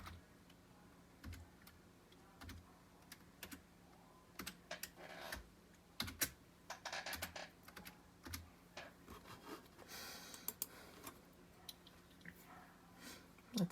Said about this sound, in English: Let me just make sure I'm typing it right. I'll type it slower.